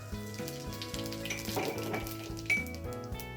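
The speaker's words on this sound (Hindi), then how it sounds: "तेल गरम हो चुका है," Cumin seeds sizzling in hot oil in a pan while cooking bhatt dal, a steady soft crackle with a few clinks of a spoon or pan.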